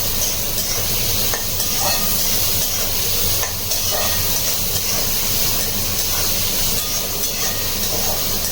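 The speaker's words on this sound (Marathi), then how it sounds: "परतून घेऊया." Food sautéing in a pan until golden, a loud, continuous close sizzle and hiss with faint scraping stirs throughout and no talk.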